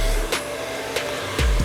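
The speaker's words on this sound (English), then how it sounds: "And this dryer is up on full speed and you can hear it." A handheld hair blow dryer with two hot and two cool speeds runs at full speed, a steady loud whoosh broken by a few brief bumps.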